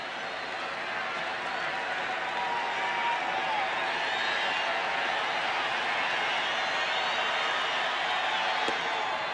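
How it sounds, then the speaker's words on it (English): A baseball stadium crowd reacts to a pitch with a continuous, loud roar of murmuring and cheering that swells slightly and holds steady throughout. "Hear this crowd."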